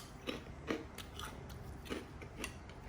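Crunchy crackers bitten and chewed close to the mic, a handful of quiet, crisp crunches spaced irregularly over a soft room hum, with no talking.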